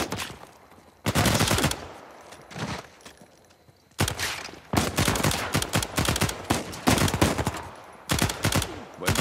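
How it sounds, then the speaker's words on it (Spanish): Bursts of rapid automatic gunfire and single shots from an Uncharted 4 firefight, loud clustered volleys separated by brief quieter gaps, with no speech over them. "¡Buen disparo, hermanito!"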